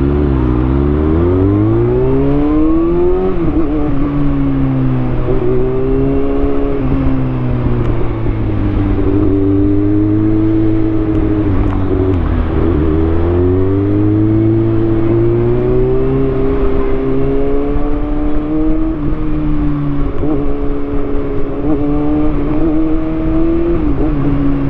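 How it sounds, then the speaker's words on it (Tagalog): A close, continuous engine drone with shifting pitch rises and falls as the vehicle speeds up and slows in road traffic, loud and steady throughout with no voices. "Traffic yan."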